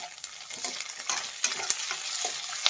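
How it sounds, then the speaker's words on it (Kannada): Two medium tomatoes fry in a pan for a badami chicken gravy, giving a crackling sizzle broken by scraping stirs, close and moderately loud with no voices. "ಈಗ ಟೊಮೆಟೊ ಹಾಕ್ತಾ ಇದ್ದೀನಿ, 2 ಟೊಮೆಟೊ ಮೀಡಿಯಂ ಸೈಜ್ದು"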